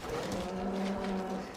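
A huge bull of about 1,370 kilograms on a farm lets out a single deep, drawn-out moo lasting over a second, loud and close.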